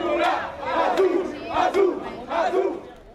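Crowd of firefighter-soldier trainees at military academy games in a battalion, chanting and cheering loudly in rhythmic bursts, four swelling shouts in quick succession.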